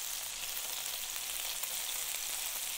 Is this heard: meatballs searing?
yes